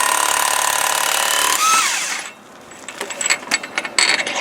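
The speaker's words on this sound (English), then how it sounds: "You just have to take a T60 Torx wrench and pull the bolt out" A power wrench with a T60 Torx bit spins out a clutch bolt torqued to 100 pounds on a P90X clutch: a steady high mechanical whir that stops at about two seconds, followed by scattered ratcheting clicks and metal clatter.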